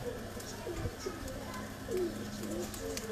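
A Tunia cross pigeon coos softly nearby in low, repeated throaty calls, faint against background murmur.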